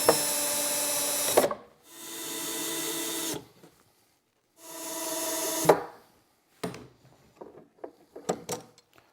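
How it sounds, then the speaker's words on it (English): A drill drives screws into the wooden sides of an antique-style toolbox in two loud, steady whirring runs of about two seconds each, followed by scattered clicks and handling knocks. "Now flip it over and then just drive the screws"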